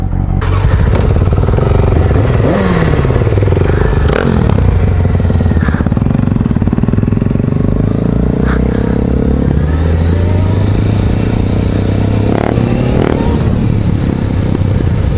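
A Suzuki DR-Z 400 motorcycle being ridden, its engine loud and close throughout with rising and falling revs as it accelerates and shifts, wind rumble and rattles underneath.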